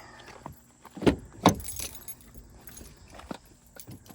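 Car keys jangle in two short, close bursts inside a 2013 Ford Taurus, followed by a few softer clinks and rustles in a quiet cabin.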